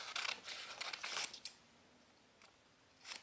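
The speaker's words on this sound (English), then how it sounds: "So you begin by cutting the Riot gimmick." Scissors snipping a card magic gimmick: a quick run of close, crisp cuts, then a pause with faint background, and a couple of single snips later.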